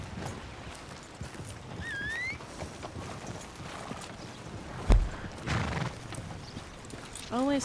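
In a Western-themed video game, a horse whinnies while its hooves clop, with a sharp thud partway through and quiet voices under the scene.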